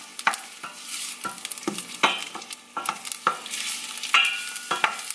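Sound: onions sautéing in oil

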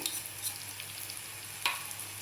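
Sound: stirring tomatoes, turmeric and crushed peanuts in a pan

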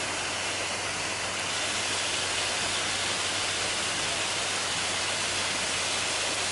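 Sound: 60-foot waterfall

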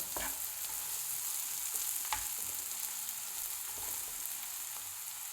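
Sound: onions frying and stirred in pan

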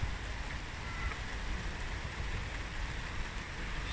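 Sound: heavy rain

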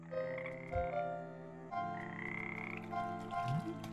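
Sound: frog creature croaking in video game Frogmonster

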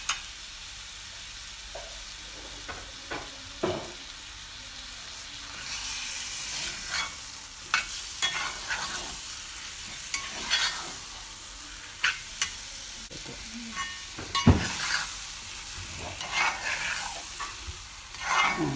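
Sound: marinated chicken frying with onion masala, stirred

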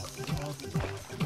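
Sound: water pouring in a video game

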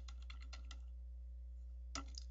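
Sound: typing on a computer keyboard

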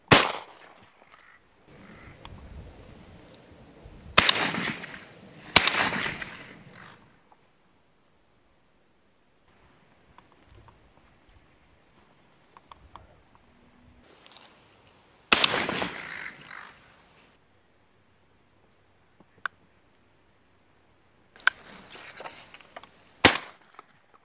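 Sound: gunshots crow shooting, crows cawing

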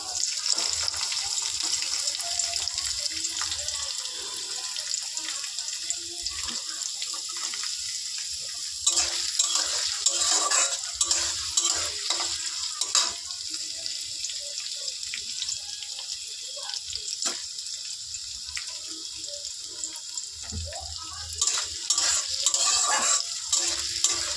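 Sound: chopped onion frying with garlic in pan

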